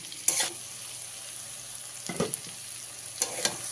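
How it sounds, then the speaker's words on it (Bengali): Capsicum and other vegetables fry with salt in a pan for spicy egg pasta, a soft sizzle broken by three short bursts of stirring and scraping. "লবণটা দিয়ে কিছু সময়ের জন্য সবজিটাকে ভেজে নেব।"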